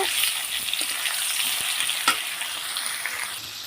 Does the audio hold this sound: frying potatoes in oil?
yes